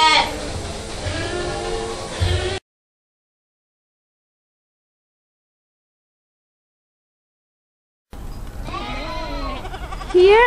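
Goats on a farm bleating in two separate bursts, each a few seconds long with wavering, harmonic cries, split by a long silent gap.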